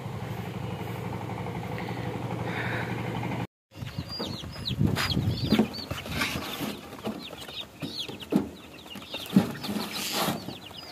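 Egyptian Fayoumi chickens on a poultry farm cluck in short, repeated bursts, moderately close, over a steady background rumble that may include a passing motorcycle.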